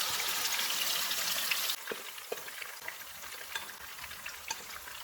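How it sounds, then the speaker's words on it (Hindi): Marinated chicken drops into hot oil in a pot for biryani, a bright crackling sizzle that soon settles into a softer, steady fry with scattered pops. "ऑयल गर्म हो गया, इसमें मैरिनेटेड चिकन डालेंगे"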